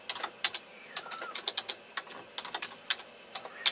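Password being entered on a computer keyboard: a steady run of light, close key taps with small pauses between bursts, nothing else audible.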